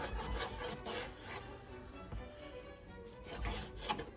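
A knife cuts meat into bite-sized pieces on a cutting board for sauerkraut soup, giving soft rubbing, sawing strokes with a few dull taps, faint and close, with no talk.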